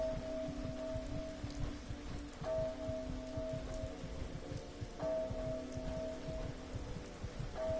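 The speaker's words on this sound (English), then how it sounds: "Trying to go slow too because of all this rain." Steady rain pours in a video game, a dense close hiss of drops hitting surfaces. A faint tone repeats at regular intervals beneath the rain, and no one speaks.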